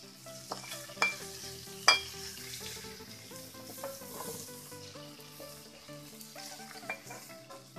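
Fish pieces sauté in a pan for fish molee. A soft sizzle runs underneath while a spoon stirs and scrapes, with a few sharp metallic clinks against the pan. No voices are heard.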